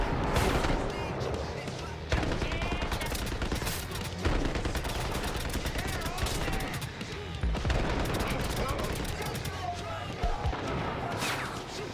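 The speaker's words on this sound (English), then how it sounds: "Well, that is a grenade." A grenade explosion amid a Cyberpunk 2077 firefight, with several broad blasts and bursts of gunfire under someone talking throughout.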